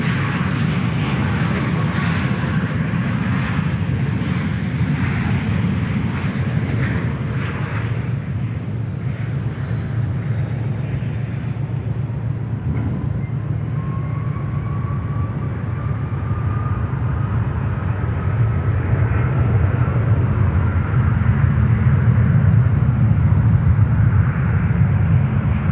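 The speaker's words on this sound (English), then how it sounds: "Still got the good spool up sound relatively clearly." A jet airliner's engines spool up at Sydney Airport in a loud, sustained roar with a slowly rising whine, heard alone without talk.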